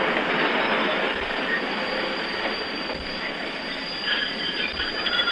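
An old passenger train grinds to a stop after the emergency cord is pulled, a sustained metallic wheel squeal and brake hiss over rolling rumble with a few rhythmic rail knocks, loud and continuous, with no one speaking.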